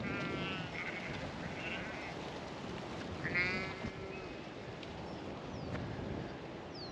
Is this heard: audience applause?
no